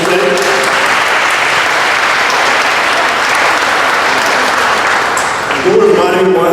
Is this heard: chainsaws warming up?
no